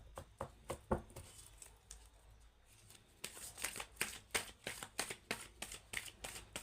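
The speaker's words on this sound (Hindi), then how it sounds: "बस एक और कार्ड निकालेंगे हम।" Playing cards being shuffled and drawn, a quiet run of soft riffling flicks and slaps, sparse at first and then quicker and steadier, with no talk.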